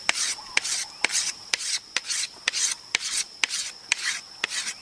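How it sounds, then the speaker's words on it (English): A blade shaves very fine bamboo shavings from a bamboo fire stick, close and crisp. About a dozen rhythmic scraping strokes, each a short raspy swish, come with sharp clicks between them. "I would also shave from the fire stick, very fine shavings of bamboo."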